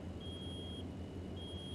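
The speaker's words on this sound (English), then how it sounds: "it's really annoying because the beeping is awful" In American Truck Simulator, a low brake pressure warning sounds as a steady high electronic tone, cutting off briefly and then resuming, faint over a low engine rumble.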